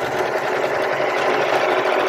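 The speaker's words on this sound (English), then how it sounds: "This machine is very smooth sewing as well." An Elna Sew Green sewing machine running steadily at a smooth, even pace, a continuous close whirring hum with a fast needle rhythm and no talk.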